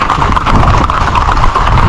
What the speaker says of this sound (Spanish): El caballo.